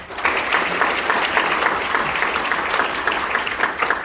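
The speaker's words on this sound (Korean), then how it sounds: "다시 한번 김동명 위원장님께 감사의 박수 부탁드립니다." Steady, dense applause from delegates at a union's national convention, a loud continuous clapping wash from a large hall audience lasting the whole span with no voices over it.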